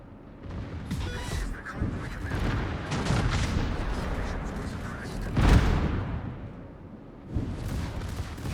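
Warship turret guns firing in a naval battle video game, a string of deep booming shots and rumbling blasts, one heavier hit midway, layered over continuous low battle noise with a voice talking.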